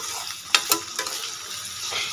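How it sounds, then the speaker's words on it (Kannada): Vegetables for fried rice sizzle in a pan, a soft continuous frying hiss broken by a few sharp scraping stirs near the start. "ಇದು ಚೆನ್ನಾಗಿ ಫ್ರೈ ಆಗಲಿ."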